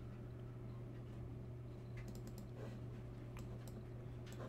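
Someone types messages on a computer keyboard: a few faint, scattered key clicks sit under a steady electrical hum, quiet and close, with no talking.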